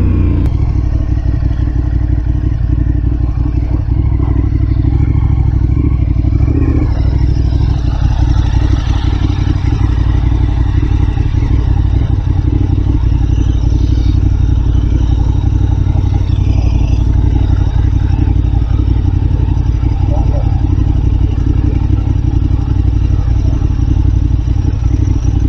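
KTM 1290 Super Adventure S motorcycles, 2023 model, riding off-road: a loud continuous engine drone with rattling clatter and occasional thumps, steady throughout with no speech.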